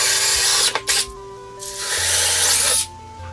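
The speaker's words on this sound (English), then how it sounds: "With a 3/8" drill bit, we'll drill a hole for the bolts that will hold the microwave in place." A power drill with a 3/8-inch bit whirs loudly in close bursts while drilling bolt holes to mount an over-range microwave, a short double pulse followed by a longer sustained run that stops abruptly.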